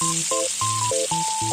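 Freshwater fish rubbed with salt and turmeric frying in hot oil gives a steady, close sizzle. Clear melodic tones play over it throughout.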